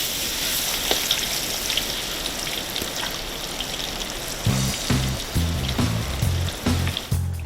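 Young jackfruit (ketewel) frying in a wok for abon, a steady close sizzle of oil, with scraping clatters of stirring breaking in toward the end.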